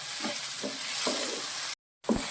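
Tomato and onion sauté in a pan with a constant hissing sizzle, broken by several soft stirring scrapes at a slow, even pace and a brief moment of total silence near the end.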